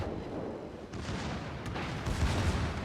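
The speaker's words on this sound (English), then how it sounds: "you can see the secondaries are firing off." Secondary guns of a Scharnhorst warship firing in the World of Warships video game, a dense continuous rumble of repeated booms with a few sharper reports standing out.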